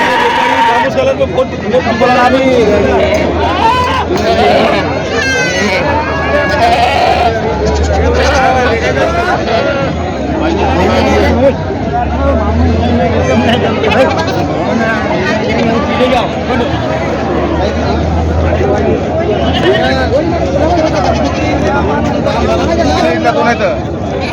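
Goats bleat repeatedly amid a busy goat market crowd at Khandoba market in Parbhani, with loud chatter and people talking close by throughout.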